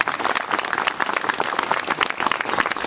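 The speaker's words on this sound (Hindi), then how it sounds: "सब ताली बजाएंगे जोर से यीशु मसीह के लिए।" A church congregation at a Hindi-language worship service claps loudly for Jesus, a dense, steady burst of many hands applauding together throughout.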